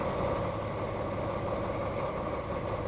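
An Arriva passenger train in Train Sim Classic, on a South Wales coastal route, idles with a steady low diesel drone and a faint mid-range hum, unchanging and close throughout.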